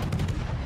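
Battleship guns firing in a naval combat video game, a short heavy booming rumble that fills the brief moment with deep low-end weight.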